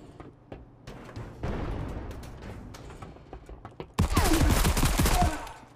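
Pistol gunfire in a video game: scattered sharp shots across a busy, noisy game soundscape, building to a dense loud burst of firing near the end.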